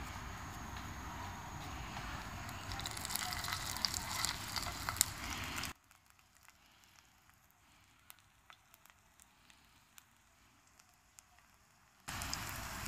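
Keto onion pakoras sizzle and crackle in hot oil, a steady loud frying hiss that cuts off abruptly partway through, leaving near silence with faint ticks, then returns at the end.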